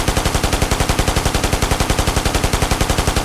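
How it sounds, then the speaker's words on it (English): A fixed machine gun fires in the video game Ghost Recon, a steady loud stream of evenly spaced rapid shots that runs unbroken from start to finish, close and dominant with nothing else heard. "Press the fire key to fire the machine gun."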